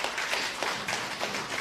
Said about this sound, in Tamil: அரோமிரா அண்ணன் அவர்களுக்கு ஒரு கைதட்டு கொடுங்க